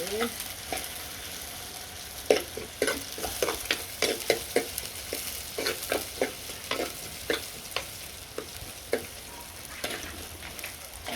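Fennel and fenugreek seeds sautéing in a pan at home, a soft continuous sizzle broken by repeated scraping and stirring strokes of a spoon against the pan.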